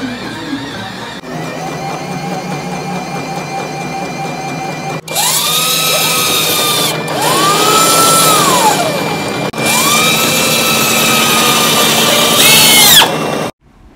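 Loud mechanical whirring and grinding from a Rotimatic automatic roti-making machine, running steadily with a few short pauses and rising, whining motor tones, no voices.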